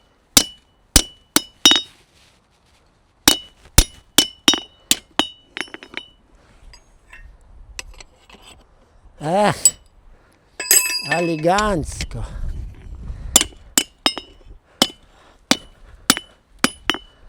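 Hammer blows ringing on hot metal in a forge, sharp clinking strikes in quick bursts with pauses, a brief spoken word between them and later a louder resonant clang passage before the rhythmic strikes resume.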